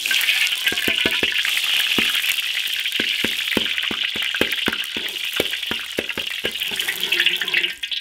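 Lard sizzles steadily in a hot iron wok, a bright continuous hiss broken by crisp spattering pops and small clicks throughout.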